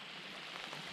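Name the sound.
rain falling at Murtle Lake campsite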